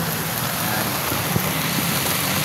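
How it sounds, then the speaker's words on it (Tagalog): Heavy rain pours down on a Manila street along Avenida, a dense, constant wash of close downpour with no letup. "Lakas ang ulan dito sa Maynila."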